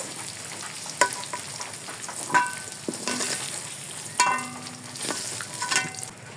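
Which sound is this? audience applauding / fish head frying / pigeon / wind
fish head frying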